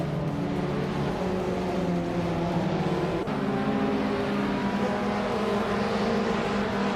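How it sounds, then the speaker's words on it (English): In a racing video game, a 2014 Abarth 500 race car drives with a steady, loud engine drone. The pitch holds fairly even, with a brief shift partway through. "Velocitor 14 is driving a 2014 Abarth 500 Assetto Corsi."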